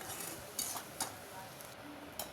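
A spoon stirs sliced bitter gourd with chili powder and turmeric in a pan, faint scraping and a few soft metallic clinks over a low background hiss.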